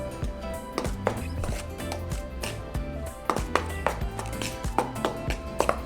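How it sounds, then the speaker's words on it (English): Baking powder, sugar and salt for sopapilla dough are stirred together in a bowl, giving quick, uneven taps and scrapes of a utensil against the bowl over soft background music. "So here I have the baking powder, sugar, and the salt. So we're just going to mix that."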